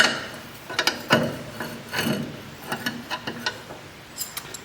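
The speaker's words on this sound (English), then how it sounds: "grab a wrench, crack that guy loose while the wheel cylinder is still bolted to the backing plate." Wrench loosening a flare nut on a wheel cylinder still bolted to the backing plate of a 1968 Mustang front drum brake: a series of close metallic clicks, scrapes and small ratcheting knocks, irregularly spaced.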